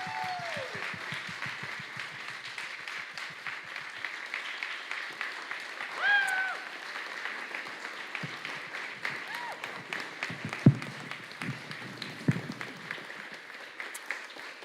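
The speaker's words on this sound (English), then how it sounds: "let's give one more applause to our graduates" A congregation applauds graduates at a Sunday service, sustained clapping filling the room for several seconds at moderate volume, with a brief voice at the start and a few louder claps near the end.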